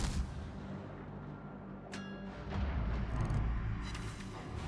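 Gunfire from a Fiji warship firing AP shells in World of Warships, a few sharp distant booms and cracks over a low rumbling ocean and engine bed, quiet overall with no talk.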